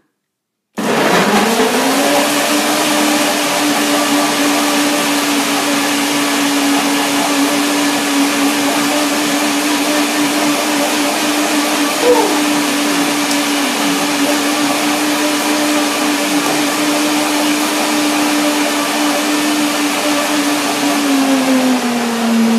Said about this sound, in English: So that's what I will blend now. Banana, avocado, lemon,